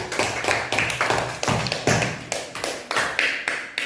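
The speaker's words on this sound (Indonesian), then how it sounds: "Kita berikan aplaus dulu untuk adik Puci." A classroom of students claps to applaud a classmate, with dense, irregular handclaps that keep going throughout at a steady loudness with no talking.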